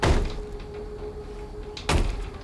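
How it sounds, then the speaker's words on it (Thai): Someone bangs on a door in the horror game The Baby in Yellow: a heavy thud strikes at once and a second blow lands about two seconds later. A low, steady hum fills the gap between them, and no one speaks. "เสียงใครทุบประตู"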